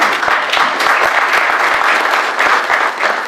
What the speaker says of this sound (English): give yourself a round of applause for being here